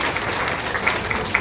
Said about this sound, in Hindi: ताली बजाए, बहुत अच्छा।